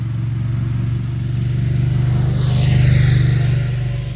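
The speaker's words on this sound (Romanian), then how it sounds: "Este un BMW GS 1250R." A BMW GS 1250R motorcycle engine on a country road, a loud steady low drone and rumble that swells slightly as the bike picks up speed, heard up close with no talk.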